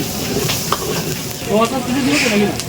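Chili chicken frying at a busy Sealdah street food stall: loud, close sizzling and hissing with the scrape and toss of a ladle in the pan, continuous over the short stretch amid background bustle.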